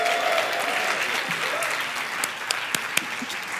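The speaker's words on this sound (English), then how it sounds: "Can we give Keel a big round of applause?" Sustained applause from an audience at a live talk on finding one's passion, a dense wash of claps at steady loudness for the full stretch, with a few sharper individual claps standing out near the end.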